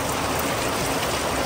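Heavy rain pouring down outside a flower shop, a dense, loud, unbroken hiss of water with no pauses and no voices.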